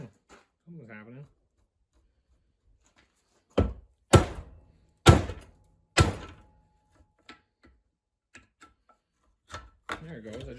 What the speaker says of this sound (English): I just hit it really hard with a hammer.